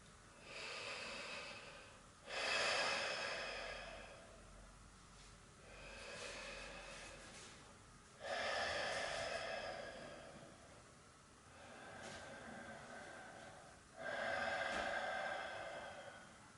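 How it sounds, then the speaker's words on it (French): Pranayama yoga breathing done through the mouth, a slow series of about six audible breaths, long airy inhales and exhales alternating at an even relaxed rhythm, close and fairly soft with no talking. "c'est deux des rares respirations qui se font par la bouche, en respiration, en pranayama"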